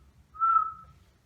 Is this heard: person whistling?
yes